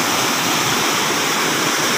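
Water rushes continuously down a cold mountain stream, a dense, steady roar heard close and loud with no pauses and no voices.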